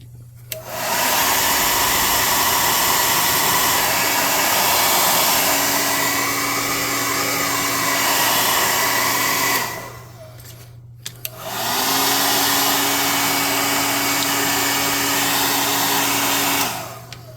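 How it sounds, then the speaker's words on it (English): A hot air blower dries wet paint on cardboard with a loud, steady close-up roar in two long runs separated by a brief gap, with no talk. "Let's get some hot air on this to get it kind of dry quicker."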